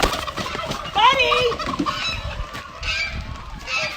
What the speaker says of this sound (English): Here's a gray turkey that we have